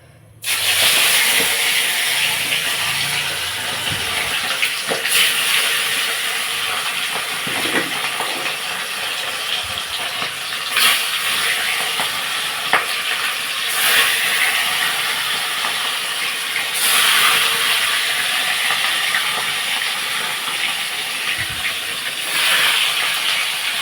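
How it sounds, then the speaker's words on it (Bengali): Rohu fish pieces fry in hot oil in a wok, giving a loud, continuous sizzling hiss that holds steady from start to finish with small swells. No one speaks over it. "কড়ার তেলটা গরম হয়ে গেছে, সব মাছগুলো কেটে ভেজে নেব।"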